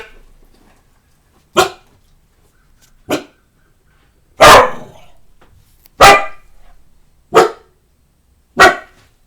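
Several dogs bark in six sharp, loud, separate bursts spaced about a second or more apart, with quiet gaps between them and no talking.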